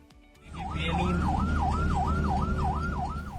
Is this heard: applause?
no